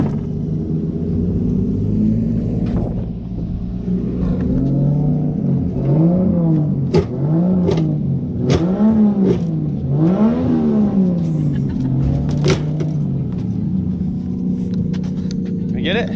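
Race car engine at Harris Hill Raceway revving in repeated rising and falling swells, loud and close over a steady rumbling idle, with people talking nearby and some wind buffeting.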